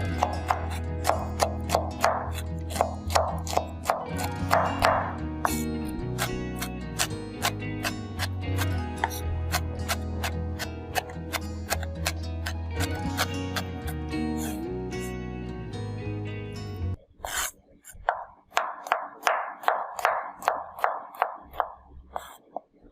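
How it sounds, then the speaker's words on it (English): A knife chops a red pepper on a cutting board in a steady, fast series of close, crisp taps, with a brief pause before a second, quicker run of chops. "Chopping the red pepper."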